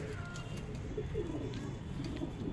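Pigeons coo softly in a loft, a low murmuring warble repeating over a steady hum of background noise, with no voices.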